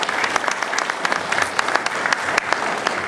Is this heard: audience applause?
yes